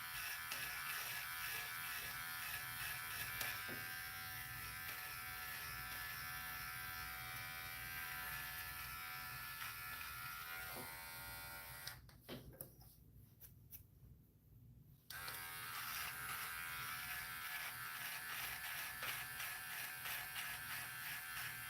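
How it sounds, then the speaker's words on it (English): An electric hair trimmer buzzes steadily while cutting hair, a close, continuous whirring that drops away briefly for a few seconds before resuming at full strength. "I'm pretty much almost through all of this, at least with the trimmer."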